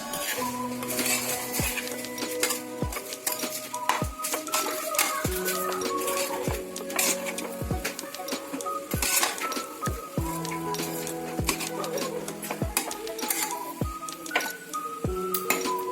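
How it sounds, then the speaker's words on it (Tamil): Paneer fried rice is stirred together with masala in a pan, a metal spoon scraping and clinking against the pan in a steady, repeated rhythm over soft tonal background music. "இது மசாலாவோட இந்த சாப்பாடு நல்லா கலந்து வரணும்"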